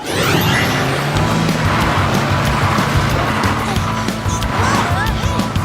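A cartoon car drives through a snowstorm, a dense, loud, continuous rumble and rush of engine and wind with clatter, steady throughout, with speech mixed in.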